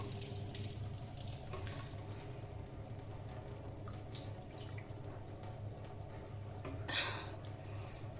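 Water runs steadily from an RO purifier tap to fill a glass for drinking, a quiet continuous stream with a faint splash near the end, heard alone indoors.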